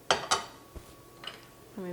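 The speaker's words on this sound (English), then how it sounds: "Let me mix it, stir it all around" A utensil scrapes and clinks against a half-sheet baking pan while orzo and tomato sauce are stirred together, giving a few sharp metallic taps followed by softer scraping, close and fairly quiet.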